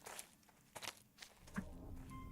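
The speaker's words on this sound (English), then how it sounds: "I think I just heard footsteps." Faint footsteps at a camp in the game Twisted Wonderland, a few soft, irregular steps and light thumps, quiet and somewhat distant against a low background.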